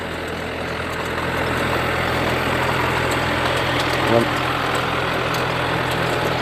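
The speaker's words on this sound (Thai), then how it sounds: "เครื่องหยอดหอม" The engine of an onion seeding machine on a farm field runs at a steady idle-like drone, and a brief clunk comes near the end.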